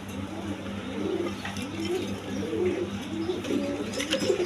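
Pigeons at a farm coo softly in repeated low, throaty phrases over a steady background hum, with faint chirps mixed in; no speech.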